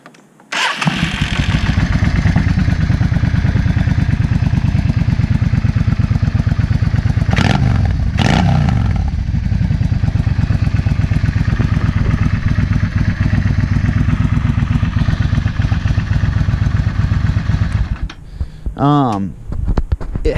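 A 2003 Yamaha V Star 650 motorcycle with its exhaust baffles removed idles loudly and steadily close by, with a couple of brief throttle blips midway and the engine cutting off near the end. A voice speaks faintly underneath.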